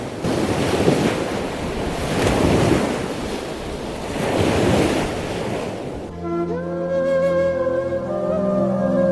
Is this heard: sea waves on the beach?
yes